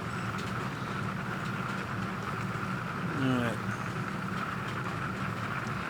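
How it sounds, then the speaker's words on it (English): Steady rain drums on an RV on a porch in a continuous broadband hiss that fills the whole stretch, with a brief voice and a short rising tone partway through. "You can hear the rain coming down"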